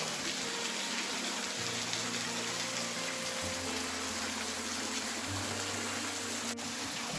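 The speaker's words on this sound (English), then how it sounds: "There's another really neat waterfall." Waterfall beside a backpacking trail, a steady broad rush of falling water, close and continuous throughout, with low rumbling undertones and no voices.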